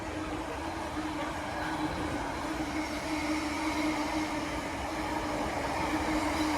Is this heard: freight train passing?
yes